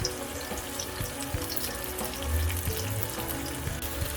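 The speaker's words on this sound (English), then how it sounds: "After adding the onions, I'll also add in the garlic paste along with the ginger paste." Onions with garlic paste and ginger paste fry in a pan for a chicken kofta curry, giving a steady, close sizzle with a faint watery crackle throughout and no talking.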